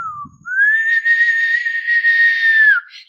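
A person whistles as a breathing exercise: a short low note, then one long, steady, clear tone held for over two seconds that dips at the end, close and alone.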